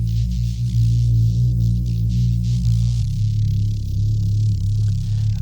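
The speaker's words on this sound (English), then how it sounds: "It's basically just Jamie's voice pitched way down and then filtered and distorted" Bass built from a human voice pitched far down, filtered and distorted: a loud, steady, buzzing low drone with throbbing, gritty texture, shifting pitch once partway through, heard alone without talk.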